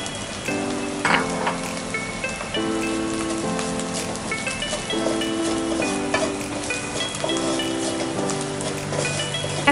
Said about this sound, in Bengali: নারকেলটা দেওয়ার পর মশলার সাথে এটাকে আরও একটু ভালোভাবে ভেজে নেব